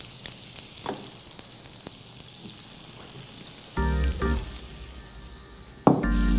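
Lemon cooking in a little oil in a pan gives a steady, close sizzle that flares louder midway as it is moved or stirred, with a sharp clink near the end and no talking.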